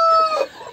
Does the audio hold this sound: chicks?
yes